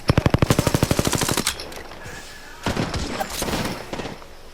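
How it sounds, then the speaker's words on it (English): Automatic gunfire in the video game Apex Legends, a rapid burst of evenly spaced shots followed by further scattered firing and impacts, loud and close. "Opening fire on the enemy."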